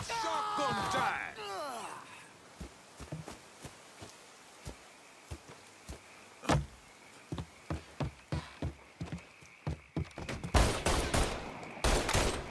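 Gunfire in the Mafia 3 video game, including a shotgun: a series of sharp, punchy shots spaced irregularly, then a dense burst of rapid blasts at the end, with a voice talking at the start.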